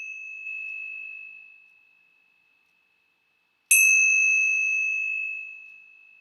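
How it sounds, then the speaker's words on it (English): Bells of hope ring out in two clear tones: a sustained pure chime fading into silence, then a second bright strike with a shimmering attack that rings on and slowly decays. "let's begin our time together with the ringing of the bells of hope"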